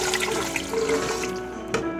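Hot beef broth poured steadily over meat for Italian beef, a continuous close splashing and trickling pour with no talk.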